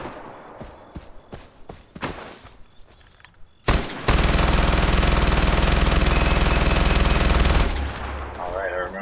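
Gunfire from a weapon in the video game Far Cry 4: a string of sharp separate shots, then a loud sustained automatic burst lasting several seconds before stopping abruptly.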